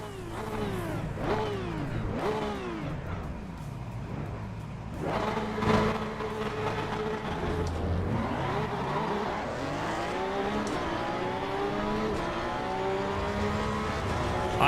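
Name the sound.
Porsche Cup race car engine revving, from video game Assetto Corsa EVO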